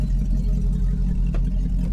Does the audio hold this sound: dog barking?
no